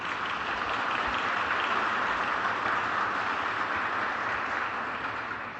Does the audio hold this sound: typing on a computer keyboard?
no